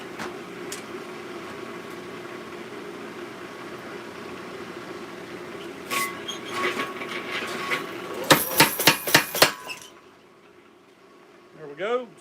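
A power hammer forging a small Bowie knife pounds out a rapid burst of about six heavy, ringing blows, following a long stretch of steady motor hum and clatter in the shop, with the hum lingering briefly afterward.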